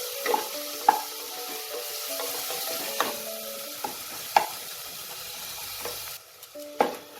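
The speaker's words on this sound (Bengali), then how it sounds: "এবার এই রসুনটাকে হালকা একটু 1 মিনিটের মতো একটু ফ্রাই করে নেব যাতে রসুনের কাঁচা স্মেলটা চলে যায়।" Crushed garlic paste frying in a pan for a Bengali mutton keema ghugni, a soft steady sizzle broken by sharp scraping stirs of a spatula at irregular intervals, fairly quiet with no voices.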